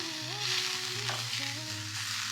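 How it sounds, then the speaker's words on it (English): Mushrooms and garlic toast frying in olive oil produce a steady, close sizzle of moderate loudness, with a faint tonal hum running underneath and no speech. "Grill them until it's like golden brown, and then I also fry some mushroom on the side."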